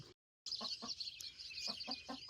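Soft, low clucking from several chickens roosting in the dark in a quiet, still space, a few short murmured calls spaced apart.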